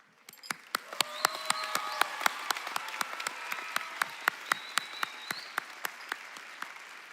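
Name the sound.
applause for graduates at a high school graduation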